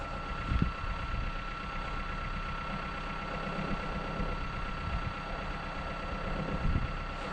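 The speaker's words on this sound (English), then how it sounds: "Yeah, the tractor. The real tractor." An old tractor engine runs on a snowy farm, a steady, fairly faint rumbling drone with a few soft knocks and no voices.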